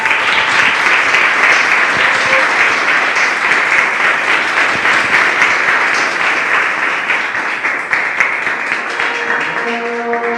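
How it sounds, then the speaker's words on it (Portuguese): A church congregation claps together in loud, dense, sustained applause that fills the space evenly from start to end, with a few murmuring voices faintly underneath. "Palmas para o Senhor."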